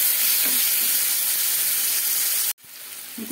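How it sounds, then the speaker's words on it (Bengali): Chopped onion, garlic and green chili frying in hot oil give a loud, steady sizzle that cuts off abruptly near the end, followed by a quieter, muffled hiss as a lid goes on. "একটু ঢাকা দিয়ে ভেজে নিই। পেঁয়াজটা"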